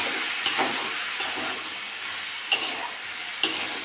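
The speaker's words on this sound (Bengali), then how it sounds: "নেড়ে চেড়ে ভালো করে কষে নেবো।" Ghugni masala is fried and stirred in a pan. A steady sizzle continues throughout, broken by three sharp spatula clinks against the pan, and no one speaks.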